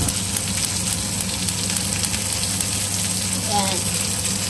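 A torta frying in hot oil in a pan sizzles loud and steady, with close crackling throughout and a low hum underneath.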